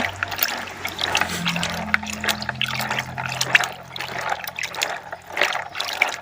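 Water trickles and splashes as freshly picked ripe coffee cherries are rinsed clean by hand, an uneven close sloshing and dribbling with a low hum underneath.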